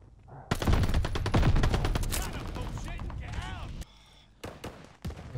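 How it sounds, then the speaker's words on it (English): Sustained automatic gunfire in Call of Duty: Vanguard, a loud rapid burst for about three seconds, then a pause and a few sharp single shots. "Shooting at this guy."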